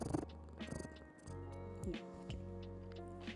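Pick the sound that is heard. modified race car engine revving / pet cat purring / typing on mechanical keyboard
pet cat purring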